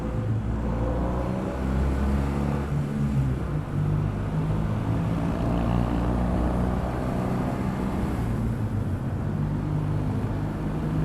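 A 1961 BSA A10 Golden Flash motorcycle's parallel-twin engine runs nearby at a steady, low idle, giving a continuous deep throb with even loudness for about eleven seconds and no talking.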